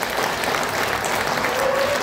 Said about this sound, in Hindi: मैनेजमेंट के लिए एक हाथ ताली हो जाए.